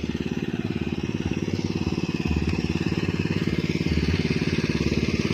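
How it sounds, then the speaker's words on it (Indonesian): A small engine driving the watering of a watermelon field drones steadily and loudly up close, its rapid, even chugging unbroken for the whole stretch. "Di sini ada mesin. Ini lagi melakukan penyiraman semangka."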